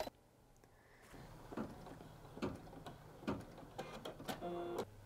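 An embroidery machine stitching, giving a quiet, close, rhythmic mechanical whirr with soft repeated clicks and taps, uninterrupted by speech.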